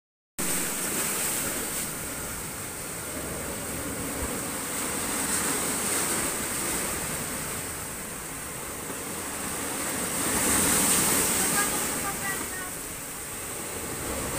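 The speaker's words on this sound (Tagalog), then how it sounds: "ang lakas ng alon guys no" Strong sea waves driven by Typhoon Odette surge in the dark at around 1 a.m., a broad continuous roar of surf and wind that swells and eases twice, with a voice speaking faintly near the start.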